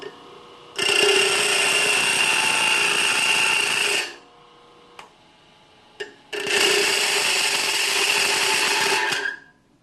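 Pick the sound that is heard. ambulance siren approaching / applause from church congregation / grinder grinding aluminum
grinder grinding aluminum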